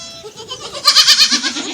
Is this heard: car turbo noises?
no